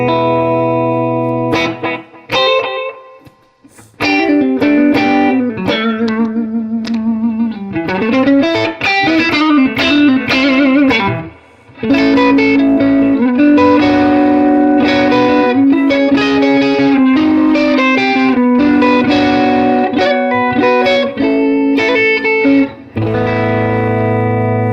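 A Les Paul guitar plays sustained, heavily distorted chords and single-note lines through a Nobels DT-1 distortion pedal into a 1968 Fender Super Reverb amp. The tone is loud and close with reverb, briefly dropping out twice.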